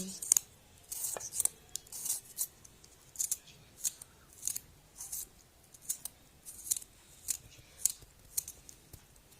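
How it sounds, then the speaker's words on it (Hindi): Tomatoes are finely chopped with a knife for a simple salad, producing a steady series of crisp, close cutting clicks about every half second, each short and sharp against a quiet kitchen background. "अब टमाटर काट लेंगे इसी तरह से। इसको भी बारीक काट लेने ऐसे।"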